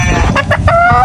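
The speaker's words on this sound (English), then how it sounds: "you have new chickens. American Silky chickens." American Silkie chickens cluck close by in a quick burst of short calls, loud and clear.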